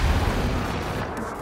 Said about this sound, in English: Oh no, there's a Trinity rocket.